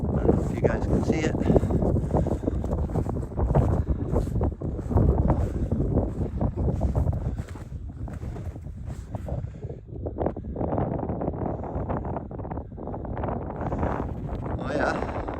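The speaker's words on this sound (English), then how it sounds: "I'm facing right into the wind also" Strong wind blows steadily across a microphone on the shore of Lake Nipissing at Callander Bay at night, a dense continuous rush that eases a little midway.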